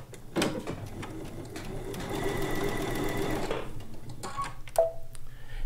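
A sewing machine stitches quilt strips with a short stitch in one close, steady run of a couple of seconds, with faint clicks and handling noises before and after.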